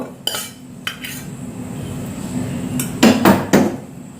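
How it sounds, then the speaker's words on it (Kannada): Jackfruit seeds tipped into a bowl for pakoda give a few sharp clattering knocks and clinks, a couple early and a louder cluster near the end, over quiet kitchen background. "ಈಗ ಒಂದು ಬೌಲ್ ತಗೊಂಡಿದ್ದೇನೆ ಈಗ ಬೌಲಿಗೆ ಬೀಜವನ್ನೆಲ್ಲ ಹಾಕಿಕೊಳ್ಳಿ"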